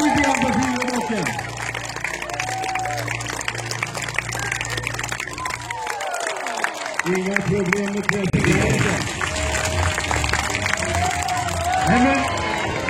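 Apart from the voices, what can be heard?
crowd cheering and applauding a rider at a jousting tournament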